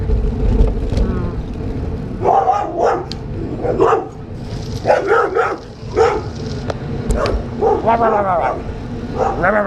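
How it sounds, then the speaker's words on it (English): Several loud dog barks ring out in bursts, close by, with a low rumble of traffic or wind running underneath. "those dogs scared me so much the first time I went by, because they're loud"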